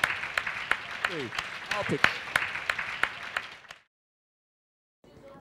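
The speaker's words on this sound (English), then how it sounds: "Give yourselves a round of applause." Scattered claps and cheering from an audience under a voice, fading to near silence after a few seconds.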